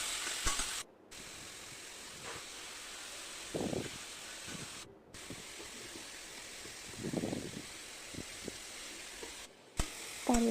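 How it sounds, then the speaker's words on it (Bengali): Potatoes and ridge gourd fry in a pan with bay leaf and panch phoron, a steady soft sizzle with occasional stirring scrapes and brief breaks. "তেজপাতা পাঁচফোড়ন তা দিয়ে আলুগুলো লাল লাল করে ভেজে নিলাম, সাথে ঝিঙ্গাগুলো দিয়ে দিলাম"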